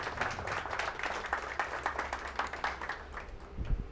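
An audience at a community gathering applauds, scattered hand claps forming a moderate, somewhat uneven patter that continues throughout.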